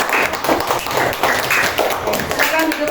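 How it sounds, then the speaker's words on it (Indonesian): A classroom group claps together in a fast, steady patter of hands at close range, lasting a few seconds, with some voices mixed in. "tepuk tangan dulu untuk kelompok 1"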